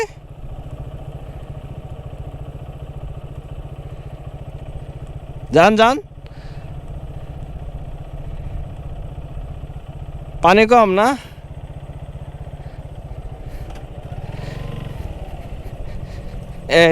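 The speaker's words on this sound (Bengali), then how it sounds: "এখন আমরা এই পদ্মার পাড় দিয়ে বাইক রাইড করে দেখি কত দূর যাওয়া যায়" A motorcycle rides along the sandy bank of the Padma river, its engine a steady close drone throughout, while people talk briefly over it.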